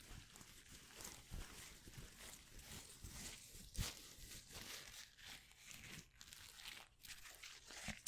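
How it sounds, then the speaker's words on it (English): A wipe crinkles softly and irregularly in close-up for several seconds, quiet and continuous with small crackling bursts and no talk. "Makes really nice crinkly sounds though."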